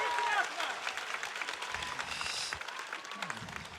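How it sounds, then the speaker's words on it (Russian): Audience applause after a ballet performance, a dense patter of clapping with voices talking over it throughout. "Это подтверждает аплодисменты наших зрителей."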